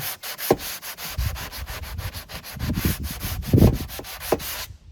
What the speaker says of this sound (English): Sanding block with 100 grit paper, and I'm just sanding lightly over the siding.